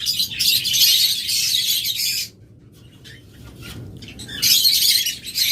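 Java sparrows and budgerigars kept for sale chirp in dense, high, chattering bursts, loud and close, with a short lull in the middle before the twittering swells again.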